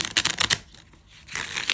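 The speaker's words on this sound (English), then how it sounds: "I'm showing to you like how easy it is to shuffle." Cards from a mini tarot deck are riffled in quick papery bursts, then briefly quiet, then shuffled again, soft and close.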